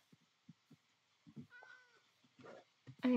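A cat in Minecraft meows once, short and clear, among faint soft thumps of game sounds, with a louder burst of noise at the very end.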